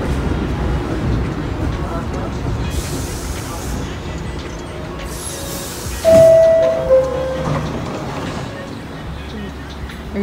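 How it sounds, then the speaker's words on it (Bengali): A New York City subway train sits at a station on a snowy day, giving off a steady rumble and hiss, with a sharp brake squeal about midway and faint voices in the background. "আমি দাঁড়িয়ে আরেকটা ট্রেনের জন্য অপেক্ষা করছি, কারণ এই ট্রেনটা এখানে লাস্ট স্টপ।"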